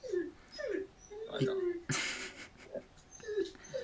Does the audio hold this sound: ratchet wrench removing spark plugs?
no